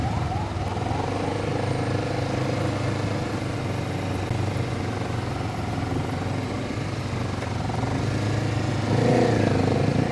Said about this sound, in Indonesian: Enak sih ini motor buat filteringan.